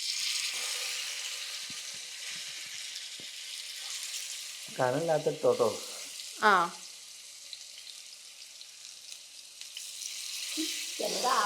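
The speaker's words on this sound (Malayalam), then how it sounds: "അപ്പൊ നമുക്ക് നമ്മുടെ മുളക് പൊരിച്ച മീനിനെ പൊരിക്കാം" Chili-marinated fish fries in a pan with a steady hissing sizzle, while voices break in briefly over it.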